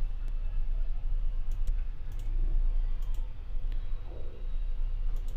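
Computer mouse clicks while filling out an online B.Ed admission form, a few sharp isolated clicks spaced seconds apart over a steady low hum of room and fan noise, no talking.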